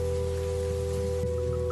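Heavy night rain in a Hindi horror cartoon falls as a steady, dense hiss, with a low constant hum and faint tonal chirps underneath.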